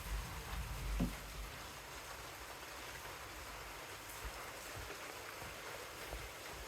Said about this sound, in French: il pleut fort d'un coup